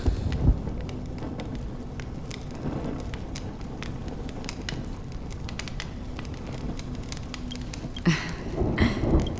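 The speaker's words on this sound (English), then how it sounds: "You're lucky to have found shelter from the rain." Steady rain and distant rumbling thunder from the sci-fi game Honkai: Star Rail, a dense patter of drops with a low rolling boom and a louder crack of thunder near the end, no talking.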